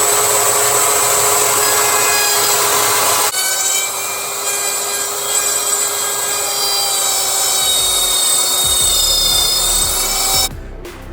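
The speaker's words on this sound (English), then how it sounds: "we put our little slice in with our rotary tool" Rotary tool cutting a slice into a part of a Cadillac being fitted with 26-inch rims, a loud continuous high-pitched grinding whine with a shift in pitch partway through before it stops.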